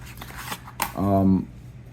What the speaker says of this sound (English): how to properly Pharaoh shuffle a deck